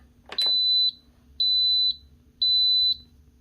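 A pressure cooker, set for a 15-minute timer, beeps three times in an even rhythm after a button press, each tone a clear, steady half-second beep close by.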